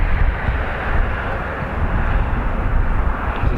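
A Boeing 777-200 airliner takes off from Dublin Airport bound for Charlotte with a loud, steady, broad jet engine roar, close and with no talk.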